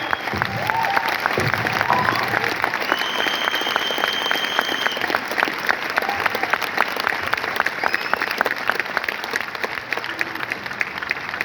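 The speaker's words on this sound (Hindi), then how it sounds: "ताली बजा लो एक बार यार" Applause from a seminar audience in Delhi, dense steady clapping that carries on for about eleven seconds, fairly loud throughout, with some crowd noise mixed in.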